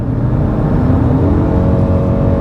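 Ford Maverick Hybrid pickup on Continental all-season tires accelerating hard at full throttle, a loud steady engine and road roar heard from inside the cab, unbroken and with no talk.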